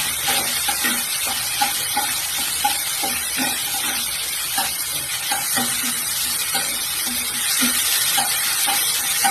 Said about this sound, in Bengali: এটা ভালো করে নাড়াচাড়া করে ভালো করে ভেজে দিতে হবে।